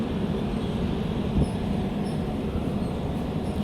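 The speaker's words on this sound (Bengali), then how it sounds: "ট্রেন কিন্তু একদম অন টাইম চলছে" The Shatabdi Express 12017 runs between New Delhi and Haridwar near Roorkee station, heard from inside the carriage as a steady, loud low rumble with faint rail clatter and a brief knock, no voices.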